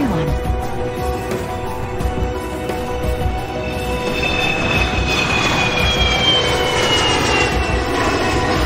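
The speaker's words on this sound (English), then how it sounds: "Looks like Hiro Hamada's Kalo and his friends are departed from Tokyo Narita Airport." An airliner departs from Tokyo Narita Airport, a broad jet engine roar that swells and rises in pitch over several seconds, heard alone.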